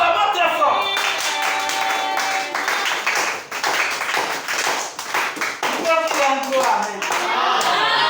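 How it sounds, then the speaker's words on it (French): A church congregation clapping and applauding hard at a worship service, a dense, continuous patter of many hands, close and loud, with voices mixed in. "Acclamons très fort."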